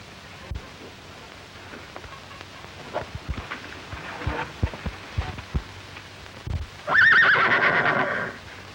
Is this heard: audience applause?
no